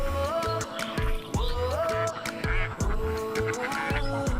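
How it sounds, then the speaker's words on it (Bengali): A crowd of ducks at a duck farm in a wetland quacks loudly and close by, overlapping rapid calls repeating throughout with no pause. "এই বিলের ভিতরে এখানে দেখতে পাচ্ছেন হাঁসের খামার।"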